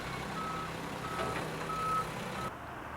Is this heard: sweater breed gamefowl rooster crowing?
no